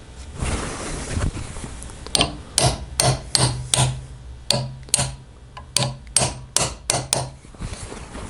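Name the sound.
hammering a brass rivet into brake lining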